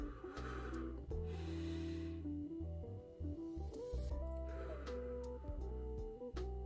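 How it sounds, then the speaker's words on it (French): A person breathes slowly, drawing in through the nose and letting out through the mouth, in soft close breaths over a strong steady low background hum. "j'inspire par le nez et j'expire par la bouche"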